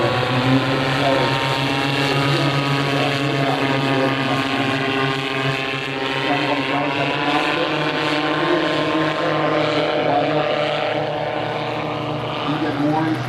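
An autogyro in flight at Rotorfest 2000 produces a steady, continuous drone of engine and rotors, holding at a constant moderate loudness throughout.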